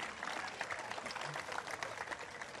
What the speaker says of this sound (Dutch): Nogmaals applaus voor de zwemclubbers van de hele Turvenroute.